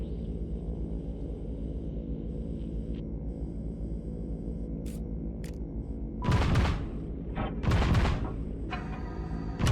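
AC-130 cannon fire in a VR gunship simulator, two deep booming blasts over a steady engine drone, preceded by faint clicks and tones, fairly distant-sounding.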